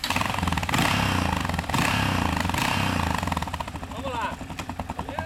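A very dirty Yamaha XT 600 dirt bike engine revs loudly and steadily, with a rough buzzing tone and some rising throttle bursts near the end.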